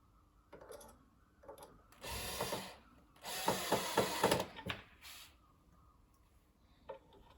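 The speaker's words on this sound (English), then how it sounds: "Just use those pilot holes. Put the screw on." A screw being driven into a pilot hole in wood during furniture assembly, heard as two close bursts of ratcheting, grinding turns separated by brief pauses, with faint handling clicks before and after.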